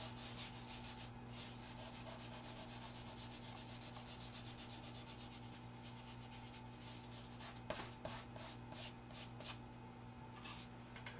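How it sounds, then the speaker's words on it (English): Compressed charcoal pressed hard and rubbed across paper to blend it, a steady soft scraping and rubbing up close, breaking into short quicker strokes near the end, with a faint steady hum underneath. "Compressed is beautiful dark, but we need to push it quite hard to get it to blend."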